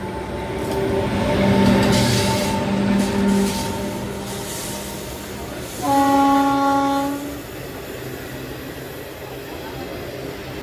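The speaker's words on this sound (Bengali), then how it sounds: "ডিব্রুগড় থেকে ছেড়ে আসছে, যাবে হচ্ছে কন্যাকুমারী বিবেক সুপারফাস্ট এক্সপ্রেস" The Vivek Superfast Express, running from Dibrugarh to Kanyakumari, rumbles past with a long steady roar and two loud horn blasts, the second one short and sharp.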